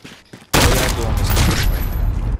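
Gunfire in Call of Duty: Modern Warfare during a hardcore free-for-all match bursts in loud and close after a brief quieter moment, then sustains as a dense roar for nearly two seconds.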